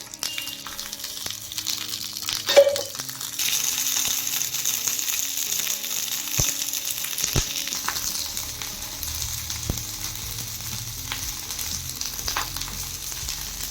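Green chillies fry in a little oil for Maharashtrian thecha, a soft continuous sizzle with a few sharp pops and clicks, fairly faint and steady throughout.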